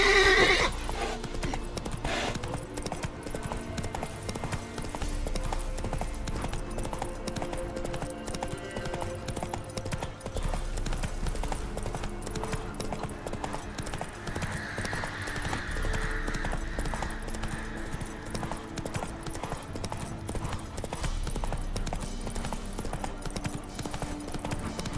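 Horse hooves gallop continuously in The Witcher 3, opening with a loud neigh and keeping a steady clip-clop rhythm under game music and ambience throughout.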